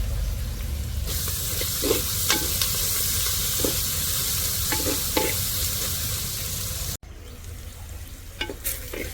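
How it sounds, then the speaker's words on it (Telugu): Onions and curry leaves frying in a pan give a loud, continuous close sizzle with hiss, broken by repeated spatula stirs and scrapes, with a short dropout near the end. "ఆనియన్స్ అనేవి మనకి బాగా వేగాయి చూసారు కదా"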